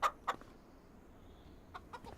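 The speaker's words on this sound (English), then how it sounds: "Oh, we got little baby chicks on the farm now" Chickens in Farming Simulator 25 give a few short clucks, a pair at the start and a couple more near the end, with quiet farm ambience between.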